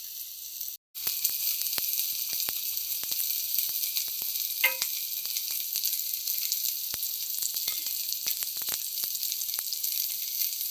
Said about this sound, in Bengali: এভাবে আমি সমস্ত চিকেনের পিসগুলিকে কিন্তু ভেজে নেব।